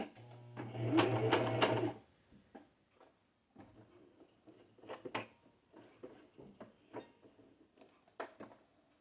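A sewing machine stitches paper wrapping-paper tags, with a loud steady whir for the first two seconds, then quieter, intermittent short bursts and light taps as the tag is turned.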